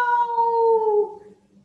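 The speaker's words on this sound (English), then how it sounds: "Suddenly, she heard a loud" A single loud, drawn-out cat meow rings out close by, its tone sliding slightly downward before trailing off.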